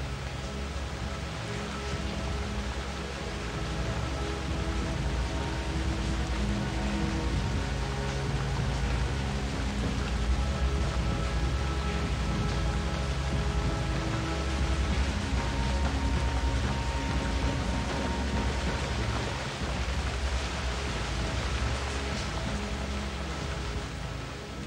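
Heavy rain pours down steadily in a dense, unbroken wash of noise that holds at even loudness throughout, with no distinct thunder and no voices.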